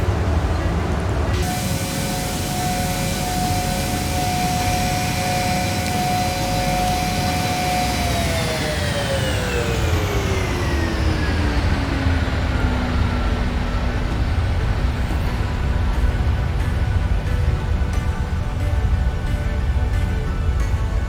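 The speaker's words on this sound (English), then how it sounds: "Engine too loud on the inside view or the outside view?" Boeing 737-900 jet engine in Flight Simulator X, a loud steady roar with a high whine whose pitch drops smoothly partway through as power is reduced, continuous and close with no talk.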